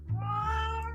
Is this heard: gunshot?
no